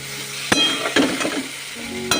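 Vegetables seasoned with salt and turmeric fry lightly in a pan, a soft continuous sizzle broken by a few sharp scrapes and clinks of a spatula stirring, close up and with no talking.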